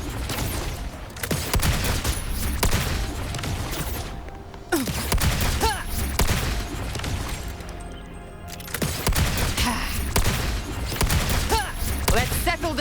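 Rapid gunfire in Wuthering Waves, loud bursts of fast shots in several volleys separated by short breaks, mixed with impact crashes and game effects.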